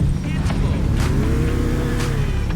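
Car engine droning while driving through city traffic in GTA 4, with a rising whine and a few brief whooshes of passing vehicles over a dense low rumble.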